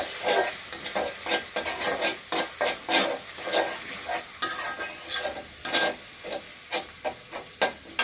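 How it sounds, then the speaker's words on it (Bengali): Garlic paste sizzles in a hot pan while a spoon stirs it in rhythmic scraping strokes, steady frying crackle running under the repeated close stirring. "এখন আমি এটা একটু লাড়াচাড়া করে দিলে"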